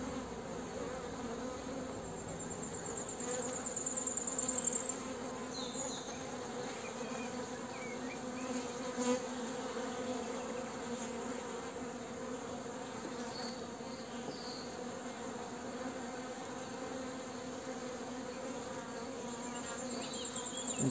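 Honeybees from a small mini-plus swarm hive buzzing steadily and close, a dense continuous hum that stays even throughout with no talk.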